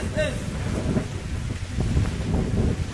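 Heavy tropical downpour with strong gusting wind and thunder, a dense, steady roar of rain and buffeting wind noise close to the microphone throughout.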